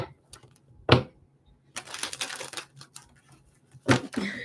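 A tarot card deck is shuffled at a live psychic reading, with scattered soft taps followed by a dense riffling burst up close and another brief shuffle near the end, no voices.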